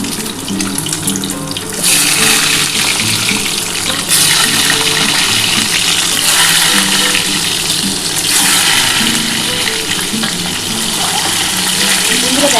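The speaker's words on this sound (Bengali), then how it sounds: "এবার আমি ডিমগুলো ভেজে নিচ্ছি হালকা করে" Eggs coated with turmeric and salt fry lightly in hot oil, giving a steady, loud, broadband sizzle that runs continuously and swells louder after the first couple of seconds, with faint clinks underneath.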